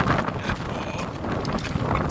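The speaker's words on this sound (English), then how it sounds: "if you can hear me on the video, it's extremely windy." Strong gusting wind on Scafell Pike during a yellow wind warning buffets loudly and continuously, a rough, close roar with no voices.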